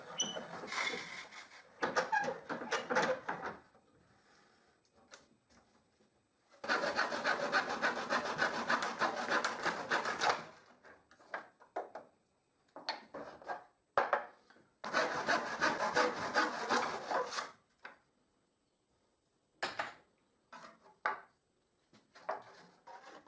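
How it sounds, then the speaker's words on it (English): Hand saw cutting a wooden strip in two, close rhythmic rasping strokes in several bursts separated by pauses, ending with a few short final strokes. "If I cut this piece of strip in two"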